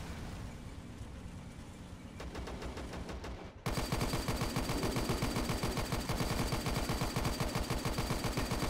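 Rapid gunfire in the World War II shooter World at War, a British Commonwealth match with rifles and pistols. It starts as fainter bursts, then a dense, loud, continuous stream of rattling machine-gun shots takes over.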